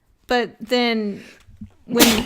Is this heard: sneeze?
yes